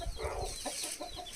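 A mother hen clucks in short, close, agitated bursts over a rough, noisy background.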